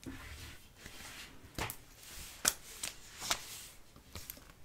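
A deck of tarot cards is cut and handled on a table, giving several soft, sharp card slaps and riffling flicks spaced a second or so apart, close and quiet.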